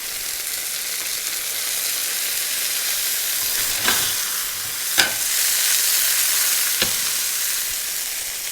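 A Dover sole fillet sears in a lightly oiled pan, giving a loud, steady close sizzle with three brief sharp clicks or pops from the pan along the way, and no talking.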